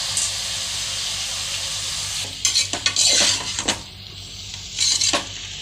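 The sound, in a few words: stirring and frying chicken with tomato and ginger-garlic paste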